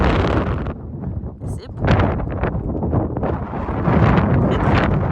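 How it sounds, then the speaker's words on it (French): Strong wind gusts buffet a microphone in New Zealand in loud, rough surges that drop briefly and return harder, with a person speaking briefly over the roar. "Oh, il y a beaucoup de vent, hein."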